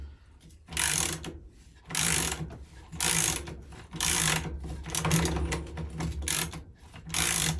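A ratchet tool clicks steadily as it unscrews the drive-side bottom bracket on a DMR Trailstar jump bike frame, coming in repeated close, loud bursts of rapid pawl clicking separated by short pauses.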